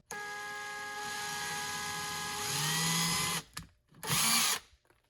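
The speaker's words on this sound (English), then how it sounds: "Coming in with the drill, just be careful." A power drill whines steadily, shifts pitch as it bites into a drywall wall, then stops, followed by two short bursts of drilling.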